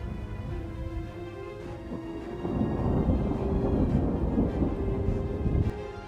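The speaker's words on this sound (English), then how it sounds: "Each flash was caused by a powerful electrical discharge within the storm clouds, showing the immense energy of nature." A powerful thunderstorm with lightning, heavy rain hissing steadily while thunder rumbles low and swells louder midway, a long rolling boom with no voices.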